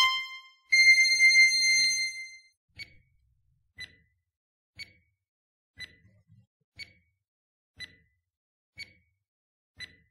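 A countdown timer gives a short opening chime, then ticks out a steady series of crisp, bright beeps about once per second, each isolated against silence.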